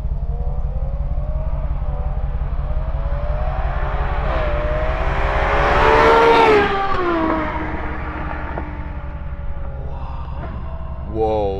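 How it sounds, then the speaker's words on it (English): A Ferrari 812 Superfast V12 and a Porsche GT2 RS accelerate hard on a street, giving a loud, continuous engine roar that rises in pitch and swells as the cars pass close by, then fades into a steady drone. "Whoa. It sounded like an F1 car"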